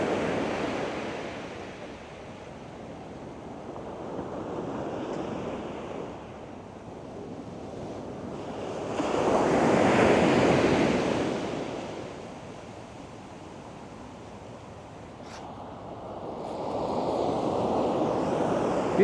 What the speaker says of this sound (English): The noise the waves are making today is just absolutely unreal.